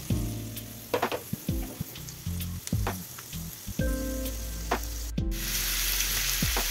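Chopped onions frying in oil for a tomato-onion sabzi, a steady sizzle close by with scattered clinks and scrapes of a utensil against the pan, no talking.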